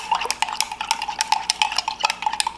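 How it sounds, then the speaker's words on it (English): A spoon stirs keto creamer with cocoa in a cup, quick rhythmic clinks of metal against the cup's sides repeating close by with no voices. "and I'm just gonna stir it"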